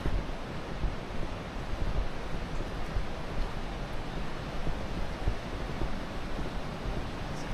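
Continuous rushing water of Havasu Creek flows steadily with a broad, even roar beside a campground, mixed with some low wind buffeting, no voices.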